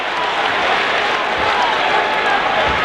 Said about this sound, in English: The crowd is roaring in this ball game on the road.